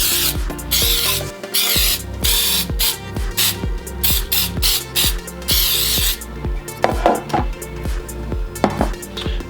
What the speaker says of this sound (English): let's start by spraying my muffin pan